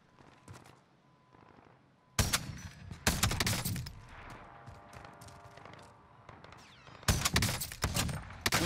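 Gunfire crackles in the video game Warzone, with quieter shots early on, then loud bursts of rapid shooting and sharp reports, a calmer stretch in between, and another heavy volley at the end.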